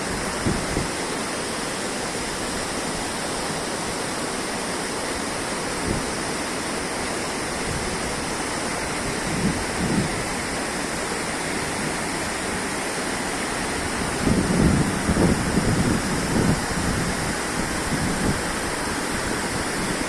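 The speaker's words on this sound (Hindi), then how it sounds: "ये ग्लेशियरों से पिघलता हुआ पानी जो नीचे आके काली नदी में मिल जाता है" Glacier meltwater river rushing down to join the Kali river in the Uttarakhand mountains, a loud, continuous roar of churning water with no voices.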